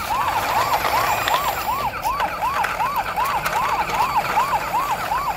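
A toy police car siren wails in a steady rapid up-down cycle, loud and continuous with no voices over it.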